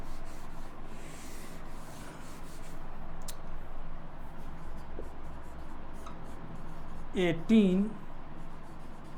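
A pen or marker scratching and rubbing on a board in a pediatrics lecture, with short faint strokes and a louder squeak near the end, under someone speaking.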